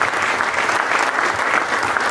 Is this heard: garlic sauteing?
no